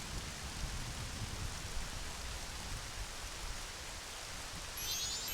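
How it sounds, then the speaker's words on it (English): Continuous soft patter of rain in the video game The Legend of Zelda: Majora's Mask, an even, diffuse hiss with low rumbling texture, fairly quiet and uninterrupted; no talking. "It's raining."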